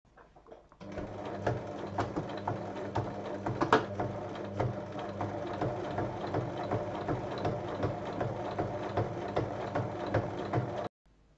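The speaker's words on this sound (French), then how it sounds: "on pique en commençant à 1 cm et en arrêtant à 1 cm." A sewing machine stitches fabric pieces for a basket, running in a steady, fast mechanical rhythm of needle clatter for about ten seconds, close and clear, then stopping abruptly.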